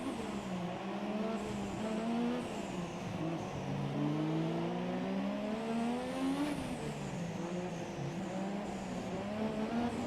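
Formula 1 car engine in the F1 2017 racing game on PS4 Pro, a continuous high whine rising and falling through gear shifts, steady and fairly quiet with no talk.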